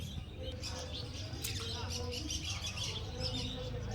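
Small conure parrots and other caged birds at a bird market give faint, scattered high chirps and tweets over a steady murmur of crowd noise, with talking mixed in.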